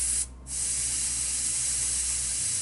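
Spray can hissing out paint onto a Marvel Crisis Protocol dumpster model, a loud steady spray with one brief break near the start, then continuous alone.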